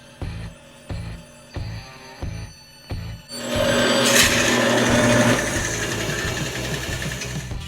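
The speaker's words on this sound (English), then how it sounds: "Now we'll head over to the bandsaw and cut it out." A woodworking bandsaw cuts wood. Several short rhythmic bursts of the motor starting and stopping lead into a louder, sustained rasping cut that continues to the end.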